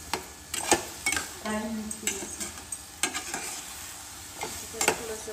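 Green beans tossed into sautéed masala in a pan, with repeated scraping stir strokes and clinks of a spoon against the pan over a steady sizzle of frying.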